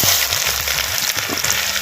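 Chopped onions fry in peanut oil in a clay kadai, giving a loud, dense, continuous sizzle and crackle up close, with no talking over it.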